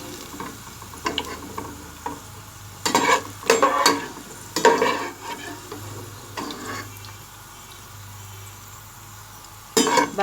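Onions fry in a pan, a low sizzle running beneath repeated bursts of stirring and scraping, with several sharp clusters of utensil noise and quiet stretches between them.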